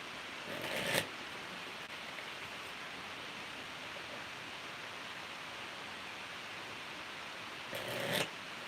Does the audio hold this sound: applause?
no